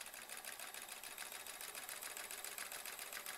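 A sewing machine stitching free motion embroidery on a hedgehog design runs in a fast, even, continuous whir, close and steady throughout with no pauses or talking.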